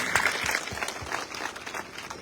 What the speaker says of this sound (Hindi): जोरदार तालियों से एक बार आप सबकी तरफ से स्वागत की